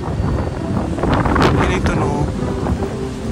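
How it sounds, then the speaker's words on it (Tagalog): Strong wind buffets the microphone in a steady roar at Yongpyong ski resort in South Korea in winter, with low rumbling gusts and faint voices underneath. "sobrang lakas ng hangin"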